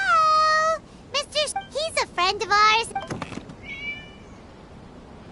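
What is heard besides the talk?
cat meowing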